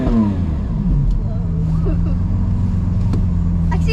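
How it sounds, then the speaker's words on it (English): Engine of a limited edition car revving during a ride-along, a loud steady low rumble close by with a rising rev near the start, under brief voices. "Let's get you a little rev going here."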